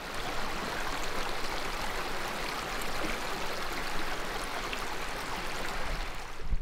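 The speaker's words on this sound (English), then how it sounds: "Once you get down the bottom there, you see the water flowing." Water flowing down a creek into a clear swimming hole in the bush makes a steady, close rushing wash that holds at an even level throughout, with no voices.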